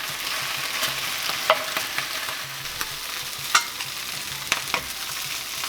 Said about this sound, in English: And now we're going to start to brown our sausages.